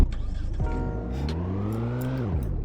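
Vehicle engine revving and shifting pitch up and down during a driving sequence in the Free Fire battle royale game, steady and close with a faint siren-like tone, no talking.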